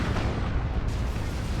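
Rumbling artillery explosions from a Manticore strike in the Dawn of War 2 strategy game, a dense, continuous booming barrage with heavy low-end roar filling the whole stretch without pause.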